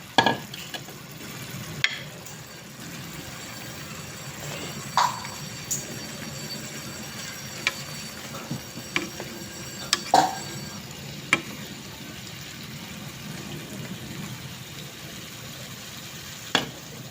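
Bitter gourd hits a pan of sautéed aromatics with a moderate sizzle, while a utensil stirs and scrapes against the pan in scattered clicks and knocks.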